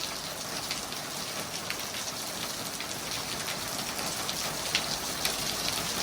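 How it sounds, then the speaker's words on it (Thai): Steady rain pours down in a dense, even hiss, with scattered drops tapping nearby surfaces and no voices. "บรรยากาศฝนตก"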